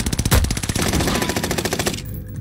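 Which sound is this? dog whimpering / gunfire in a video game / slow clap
gunfire in a video game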